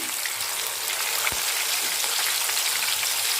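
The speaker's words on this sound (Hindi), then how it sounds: "अब मैं एक पैन में ऑयल ली हूँ और मैं इसे लो टू मीडियम फ्लेम पर फ्राइड चिकन टिक्का फ्राई" Chicken tikka fries in oil in a pan over a low to medium flame, giving a steady, dense sizzle that runs the whole time with one brief soft knock partway through.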